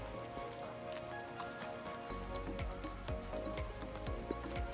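Steady patter of rain on the hard ground of an old street in Pingtung, Taiwan, soft and continuous, with scattered drips and taps standing out from the wash.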